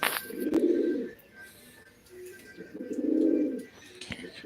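A pigeon coos twice nearby, soft low throaty calls separated by a short pause, with faint background noise.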